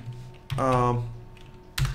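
Keys clack on a computer keyboard as a command is typed, with two sharp keystrokes standing out against a steady low hum and a brief tonal whine.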